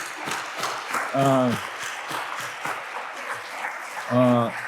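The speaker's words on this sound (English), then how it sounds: "Please, a round of applause" A room of attendees at an SCSP team gathering breaks into sustained applause, a continuous wash of clapping with a couple of short vocal whoops rising above it.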